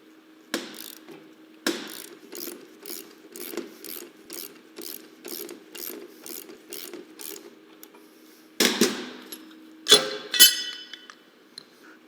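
A ratchet snugs the bolts on a rear axle pinion remover, clicking in a steady run of about a dozen regular pawl ratchets, followed by a few louder metallic clanks and clinks near the end.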